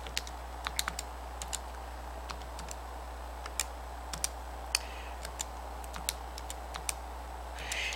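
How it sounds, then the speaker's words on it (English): Calculator keys tapped in a quiet room, a run of light, sharp, irregular clicks, close and fairly faint, over a steady low hum. "every time I'm typing the whole thing in just like on my paper"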